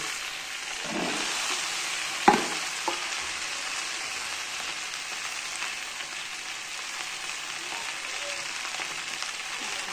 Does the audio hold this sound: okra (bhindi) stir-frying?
yes